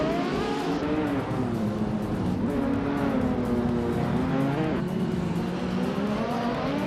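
Race car engines in a racing video game drone and whine continuously, several cars' revs rising and falling together in a dense, loud, steady roar with no voices.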